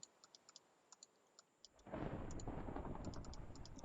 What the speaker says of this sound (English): That's quite a lot of thunder.